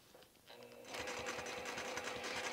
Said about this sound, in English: I'm gonna take a couple stitches, back stitch to secure it.